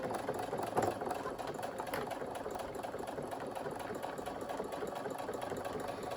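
A home sewing machine stitches through bulky layers of a quilted tiling scene, its motor running in a steady, fast mechanical chatter at moderate volume throughout, with no voices.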